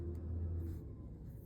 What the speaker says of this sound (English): You guys hear the garbage truck out there?